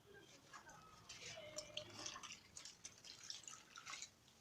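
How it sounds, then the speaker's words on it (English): Fabric being rinsed by hand in water, with splashing, dripping and trickling sounds close by, irregular sloshes across the whole stretch and faint talk underneath. "immerse it in water and ensure to rinse it"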